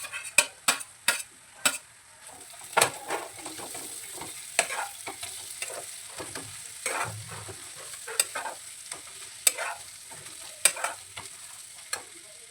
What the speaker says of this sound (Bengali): এবার আমি মাছগুলো যে ছাড়িয়ে রেখে দিয়েছিলাম সেগুলি এর মধ্যে দিয়ে দিচ্ছি